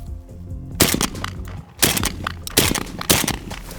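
Four loud, sharp shotgun blasts ring out at irregular intervals during target shooting practice, each with a short booming tail and no voices.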